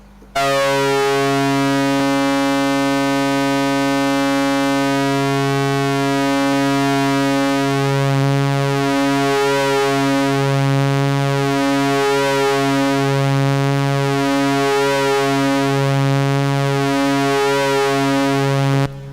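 A bright, buzzy synthesizer drone from a synced oscillator on a Murmux semi-modular synth sustains continuously, its harmonics sweeping slowly up and down under LFO modulation.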